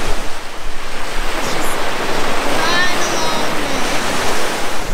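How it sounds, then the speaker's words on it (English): Surf washing steadily onto a beach in South West Western Australia, a continuous broadband roar of breaking waves with wind buffeting the microphone throughout, no voices. "I have to show you this amazing beach that we might go for a swim in."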